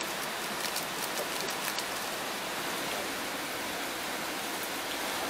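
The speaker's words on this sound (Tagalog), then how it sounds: "At sinisip na yun ng medyo malakas na ulan." Heavy rain falls steadily on a campsite, a dense, even hiss of drops close by with no break and no voices over it.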